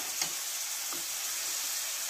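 Chopped onion frying with ginger and garlic paste, a continuous close hiss of hot oil with a couple of soft stirring scrapes, no voices.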